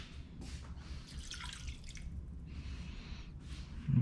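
Water is poured into a pan holding honey on a stovetop, making a soft splashing trickle in several short bursts close by, fairly quiet, with no one talking.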